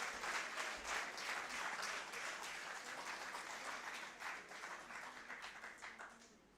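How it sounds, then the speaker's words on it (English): A seminar audience at an international academic session gives a sustained round of applause, dense steady clapping filling the hall and gradually thinning toward the end. "We can please have a round of applause, special round of applause for Sir."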